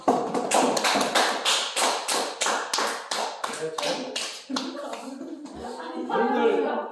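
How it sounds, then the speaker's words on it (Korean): Classroom audience at a history lecture clapping in a quick, steady rhythm of sharp individual claps, loud and close, thinning out and mixing with a few voices toward the end. "박수."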